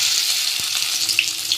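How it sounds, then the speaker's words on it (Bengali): Two medium onions, finely chopped, hit hot oil in a wok and sizzle loudly up close, a steady crackling fry with a few soft stirring knocks and no voices. "তেল গরম হয়ে গিয়েছে, দিয়ে দিব পেঁয়াজ কুচি"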